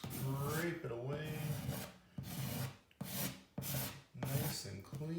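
Putty knife scraping excess pink spackle filler off a wall surface, a series of close, rasping rubbing strokes separated by short pauses, with a voice speaking over much of it.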